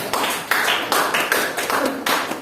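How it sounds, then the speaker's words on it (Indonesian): A small classroom group claps for a student during a micro-teaching lesson on integers for seventh grade, a few bursts of hand claps in quick uneven rhythm, close and fairly loud. "Kasih tepuk tangan untuk Mbak Hikmah"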